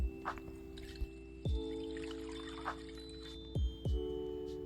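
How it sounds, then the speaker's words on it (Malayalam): A cornflour mixture is strained through a small sieve into carrot juice, giving soft drips and a brief trickling pour, with a few sharper drops against a steady low hum, quiet and close. "മിക്സ് ചെയ്ത കോൺഫ്ലവർ നേരത്തെ മാറ്റി വെച്ച ക്യാരറ്റ് ജ്യൂസിലേക്ക് ഒരു ചെറിയൊരു അരിപ്പയിലൂടെ അരിച്ചൊഴിച്ച് മിക്സ് ചെയ്യുക"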